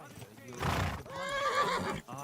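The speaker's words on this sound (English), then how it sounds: "What's that with that horse?" A horse whinnies in Kingdom Come: Deliverance II, a loud, close, wavering neigh that rises and trails off over about two seconds, set over a short burst of game ambience.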